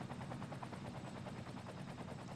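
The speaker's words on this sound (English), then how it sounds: "What is this helicopter? A disaster response helicopter." A disaster response helicopter in the city-building video game Cities Skylines whirs with a fast, even rotor chop, steady and fairly faint throughout.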